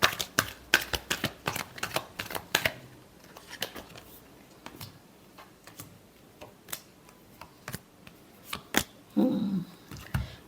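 Tarot cards being shuffled by hand, a rapid run of crisp riffling flicks and taps up close, thinning into scattered clicks, with a short muffled rustle near the end.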